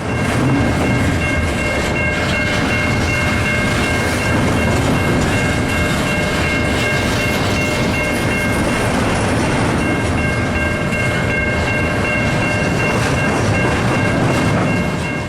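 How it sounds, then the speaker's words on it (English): A loud freight train rolls slowly past a railroad diamond crossing at 32nd Street, with a steady rumble, rattling wagons and a sustained high whine throughout. "train 320 is seen slowly moving northbound"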